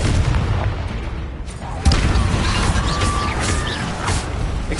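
A Confringo blasting spell explodes in Hogwarts Legacy, a deep booming burst partway through over a dense rumbling game soundscape with scattered crackles and pops, fairly loud throughout.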